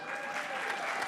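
Brief burst of steady audience applause at an entrepreneurs' leadership conference, a dense even patter of clapping with no voices.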